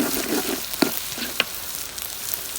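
Eggs frying for Chiang Tung-style son-in-law eggs sizzle loudly and steadily as tomatoes go into the hot pan, with a few sharp pops and clicks of the utensil on top.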